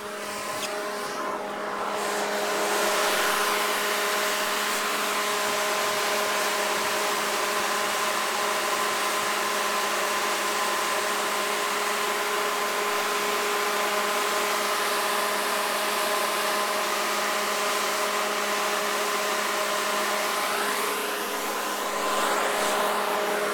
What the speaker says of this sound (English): As you can plainly hear, they're extremely loud.